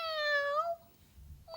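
A pet cat named Robin gives one clear, close meow that slides downward and fades, followed by quiet and the start of another faint cry.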